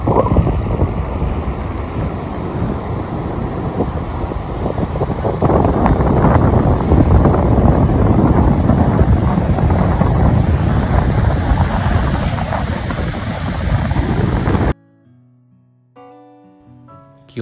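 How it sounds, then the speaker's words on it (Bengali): Cold wind gusts hard across an exposed Australian coastline, roaring and buffeting continuously for about fifteen seconds, with surf rumbling beneath, then cutting off abruptly into near silence. "হাওয়াটা বেশ ঠান্ডা।"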